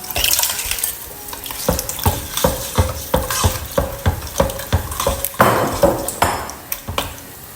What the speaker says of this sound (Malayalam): അപ്പോൾ അതും കൂടി ഒഴിച്ചിട്ട് നല്ലോണം ഇളക്കാം